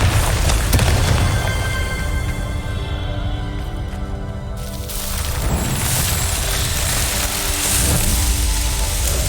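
A Confringo blasting curse bursts in Hogwarts Legacy as a loud, dense whooshing roar with a sharp onset that surges again midway, close and heavy throughout.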